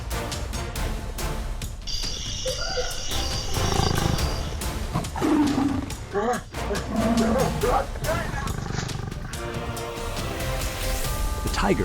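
A tiger roars and snarls repeatedly near a road in a loud, dense scene, with a man riding a motorcycle nearby, and continuous traffic and crowd noise underneath.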